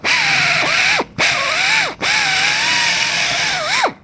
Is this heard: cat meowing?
no